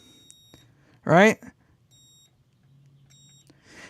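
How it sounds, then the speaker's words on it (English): A multimeter's continuity tester gives a single loud, steady electronic beep lasting about a third of a second while testing the wiring of a hand-built guitar amplifier. Quiet speech is heard briefly. "So see how that beeps?"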